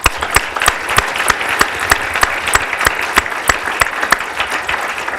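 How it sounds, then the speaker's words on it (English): A large audience at a Penn State business school startup-week talk claps warmly, giving loud, steady applause with dense overlapping claps throughout and no talking. "let's give them a warm round of applause for having come so far."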